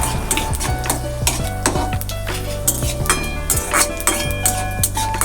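Panch phoron and a dried red chili sizzle steadily in hot mustard oil, with a continuous close fry broken by repeated clinks and scrapes of a spoon stirring against the pan.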